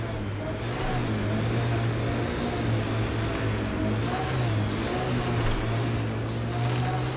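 The Nomad, a six-wheeled ground vehicle in Mass Effect: Andromeda, drives along with a steady, loud engine hum and drone that holds throughout.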